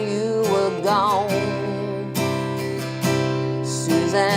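Acoustic guitar strumming the chords of a song in a quick sixteenth-note down-down-down-up pattern, close and steady, with bright repeated chord attacks and a singing voice over it.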